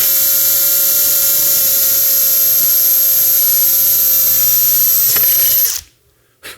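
A power drill boring a hole during launcher assembly runs with a loud, steady high-pitched whine for several seconds, then winds down and cuts off abruptly, leaving near silence with a faint click at the end.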